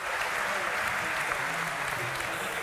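Applause and cheering from the crowd at a DreamHack Winter 2013 esports event, a dense, steady roar of clapping that fills the whole moment at even loudness.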